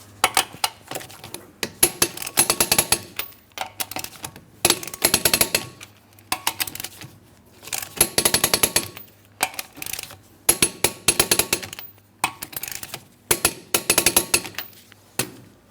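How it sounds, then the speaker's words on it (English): Wheel lug nuts on a 2003-2007 Cadillac CTS being torqued to 100 foot-pounds with the wheel on the ground: repeated bursts of sharp metallic clicking ratchet strokes in clusters, close and fairly loud, with short pauses between them. "Let's go ahead and torque these lug nuts to that 100 foot-pounds."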